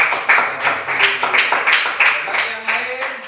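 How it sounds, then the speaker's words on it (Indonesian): Classroom applause for a student group at a teaching-practice session, a steady run of close, crisp hand claps from a small group, loud and continuous with faint voices underneath. "tepuk tangan buat kelompok"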